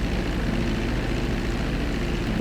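A propeller airplane engine drones steadily in a flight video game, a constant dense roar with no breaks, as the plane shakes through turbulence over a city.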